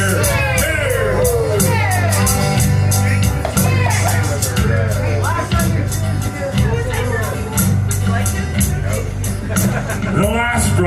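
A bar crowd at The Old Grouch's in Drumheller cheers loudly for Franny during a live band tribute, a dense, continuous roar of whoops, shouts and babbling voices filling the room from start to finish.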